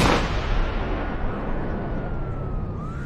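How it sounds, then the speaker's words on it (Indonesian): A single gunshot sound effect in a Malay gangster action drama hits loud at the very start, then rumbles away in a long fading echo with no other voices. "Tembakan itu bukan sepatutnya ditujukan pada ayah Syah"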